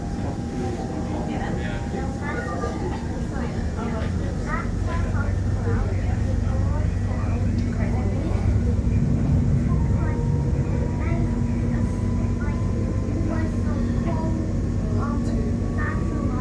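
A Perth suburban train pulling away on the Thornlie-Cockburn line, a steady loud rumble with rising motor whine heard from on board, with speech-like sound over it.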